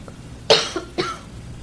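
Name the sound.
coughing fit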